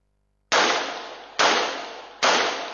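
Two men fire gunshots at a building facade in Belgium: three sharp, loud reports spaced just under a second apart, each trailing a long echoing decay, with no voices.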